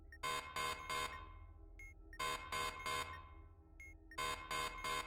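Loud, harsh alarm from the video game Keep Talking and Nobody Explodes, sounding in repeated groups of three blaring buzzes with a short high beep between groups, with no talking.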